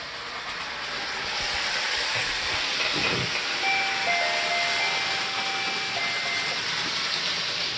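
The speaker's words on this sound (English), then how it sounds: "the train's going to be brought into the sidetrack and stopped and parked" A train rolls through switches thrown to the turnout and into a sidetrack to be stopped and parked, giving a steady close hiss and rumble with thin, drawn-out tonal squeals partway through.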